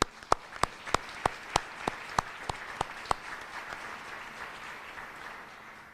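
At a news conference for a St. Patrick's Day parade, a single pair of hands claps about ten sharp, evenly spaced times over a faint wash of scattered applause from a small crowd.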